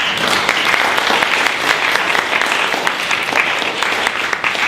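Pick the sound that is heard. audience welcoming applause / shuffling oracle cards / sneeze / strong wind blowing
audience welcoming applause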